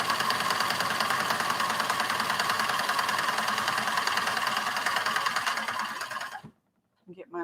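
Sewing machine stitching fabric in a fast, steady mechanical whir that runs continuously for about six seconds, then stops abruptly, followed by silence and a brief voice.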